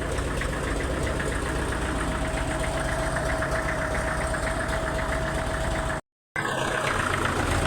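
An old Soviet-made tractor engine runs steadily at idle in Laos, a loud continuous knocking rumble with a faint whine, briefly cut by a short dropout near the end.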